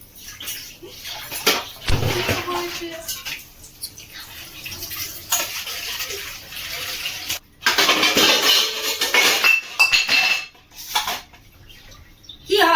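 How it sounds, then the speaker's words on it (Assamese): Dishes and pots clank and scrape while cutlery rattles, with bursts of running water and sharp clatters in an irregular, busy rhythm. "বাচন ধুব লাগিব"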